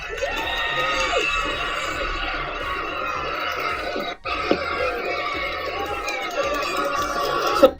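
A packed stadium crowd at an English soccer match roars and cheers in a dense, loud wash of voices with shouts rising out of it, broken by one short dip midway.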